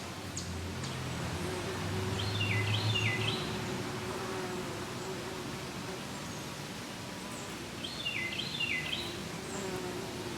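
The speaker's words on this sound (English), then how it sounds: "By looking at the number of bees surrounding it, it doesn't look like a large hive." Bumblebees buzz around a small ground nest in an old chipmunk hole, a soft continuous low hum with a few bird chirps in the distance.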